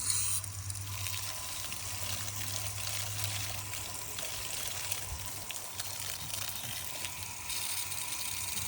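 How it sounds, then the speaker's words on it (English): Water pours steadily onto a fern in a garden, a faint continuous trickle and splash lasting several seconds with a low background hum and no talk. "let's have a look at what happens when I water this fern"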